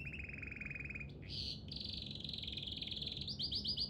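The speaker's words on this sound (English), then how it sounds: "What kind of bird is that?" Bird chirping in the video game Heavy Rain: rapid, high tweets and trilled calls follow one another for about four seconds, fairly close and clear over a soft background hum, with no talk.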